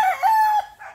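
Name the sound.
rooster crowing, buttermilk gray broodcock in backyard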